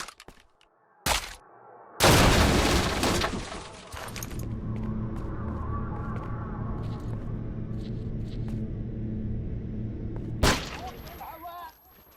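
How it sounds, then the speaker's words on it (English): An explosion goes off in the S.T.A.L.K.E.R. OGSE mod: a sharp, loud crack and blast that fades into a long, low rumble, with a few brief bangs before and after. "Oh, that was an explosion."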